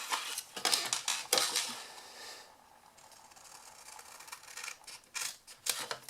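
Scissors snip through card for a folding surprise box craft, a few sharp, close cuts in short bursts separated by quiet pauses, with no talking.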